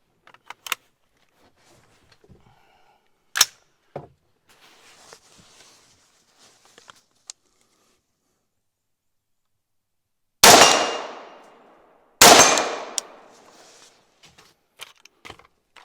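5.56 green tip rifle rounds striking an AR500 steel plate: two sharp, loud metallic impacts with ringing decay, plus a few scattered clicks and faint handling noises.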